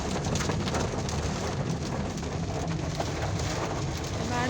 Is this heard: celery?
no